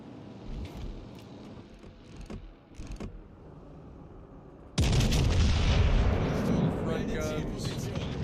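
Heavy naval guns fire in World of Warships Legends as a loud, sustained boom rises suddenly partway through and rolls on, after quieter rumbling engine and ambient battle noise.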